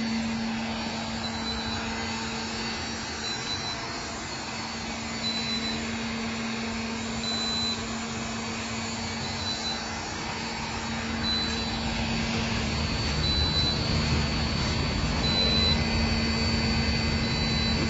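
A heat gun blows with a steady, loud broadband roar and a constant low hum, close by, running for the whole stretch during a lithium LiFePO4 UPS battery backup load test, slightly louder toward the end.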